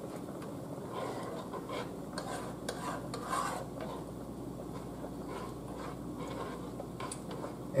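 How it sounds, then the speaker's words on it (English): A spoon scrapes and stirs a seafood boil in a pot, a soft continuous rasping swirl at close range with low background hiss. "Let's give it a stir."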